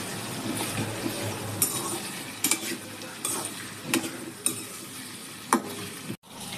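Drumstick pieces, cut long, added to a pan of frying onion for sambar and stirred, with a steady sizzle, several sharp spoon-on-pan clinks and scrapes, then a brief silent cut near the end.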